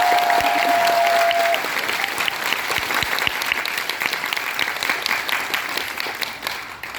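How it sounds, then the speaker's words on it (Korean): Audience at a political town hall in Sejong breaks into loud, sustained applause, a dense wash of clapping that holds steady and slowly thins toward the end, with no talk over it. "우리 당의 든든한 주춧돌 우리 예찬 전 대표님 박수 한 번 더 부탁드립니다"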